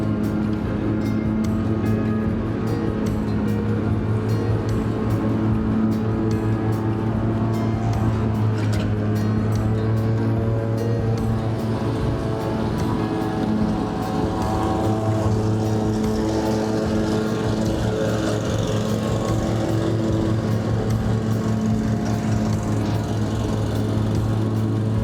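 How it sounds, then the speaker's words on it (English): A lawn mower engine runs steadily and fairly loud at a garden build site, a constant droning hum with no break through the whole stretch. "Now we'll go and get the mower."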